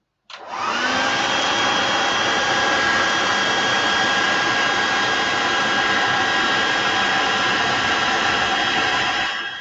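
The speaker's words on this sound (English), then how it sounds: "Now let's use the hairdryer." Hair dryer blowing steadily at close range to dry paint on a miniature, a continuous loud airy roar with a faint whine that starts abruptly and runs unbroken, with no talking.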